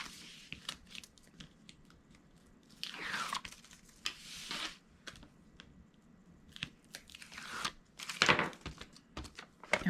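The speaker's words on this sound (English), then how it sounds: "So now I'm just going to peel away that tape backer." Adhesive tape backing paper peeled away during a budget gift craft, giving a run of close crackly rips and ticks with a couple of longer tearing bursts, with no talking.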